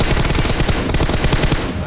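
Rapid automatic gunfire from a shooter video game rattles loud and close in dense bursts throughout, with a voice talking faintly beneath the shots.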